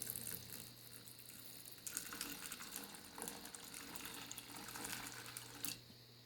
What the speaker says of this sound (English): So you get water and you just pour enough in here to cover the top.